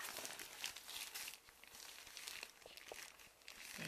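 An herbal foot pack with a built-in plastic bootie is pulled onto a foot, giving close, continuous crinkling and rustling of thin plastic in several bursts, with no talking.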